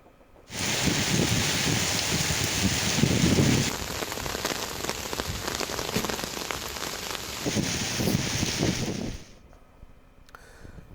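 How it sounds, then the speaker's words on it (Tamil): Heavy rain pours down in a dense, steady roar of drops hitting the ground, loud and close. It starts suddenly, holds for about eight seconds, then drops away, with no voices. "பல்வேறு பகுதிகளில் கனமழை பெய்தது"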